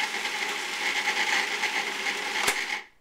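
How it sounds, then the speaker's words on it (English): A food processor whirs steadily as it chops thawed salmon, giving a loud, even motor buzz. A short sharp knock comes near the end, then the machine cuts off into silence. "I put half of it into the food processor. I'm just going to turn this on now, so it's going to get a little noisy."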